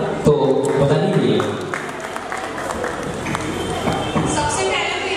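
Audience at a fashion modelling show claps steadily, a dense crowd applause continuing under a voice speaking over it.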